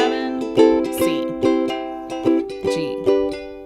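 Close ukulele strumming in a steady island pattern of down, chunk and up strokes, with rhythmic accents and percussive muted chunks across several chords, bright and fairly loud, with no voices.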